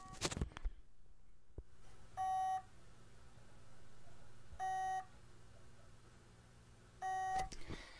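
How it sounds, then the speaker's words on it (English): A failed hard drive with its heads crashed onto the platter and not spinning gives off a repeated electronic beeping. Three short, steady beep bursts come at even intervals of about two and a half seconds over low background hiss. "that beeping is the sound of the heads are not in the parking zone"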